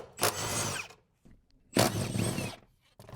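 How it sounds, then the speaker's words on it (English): A power tool fitted with a 14 mm socket loosens front seat bolts on a Toyota Tacoma or 4Runner, two short whirring bursts separated by a quiet pause, close and clear with no talking. "we're going to use the 14 millimeter and release these two bolts right here in the front"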